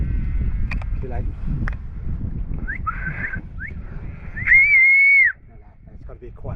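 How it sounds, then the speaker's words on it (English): A deer hunter in the Whanganui bush whistles to stop a deer. A few short rising chirps come first, then one clear, sustained whistle that is fairly loud against low rustling. "It's got to be a quiet whistle."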